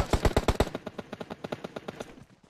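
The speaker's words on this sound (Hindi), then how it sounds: "तू भाग, मैं फायर करता रहूंगा उस पे।" Rapid automatic gunfire from PUBG Mobile, a loud opening burst of about six shots followed by a long, quieter string of evenly spaced rounds fading toward the end.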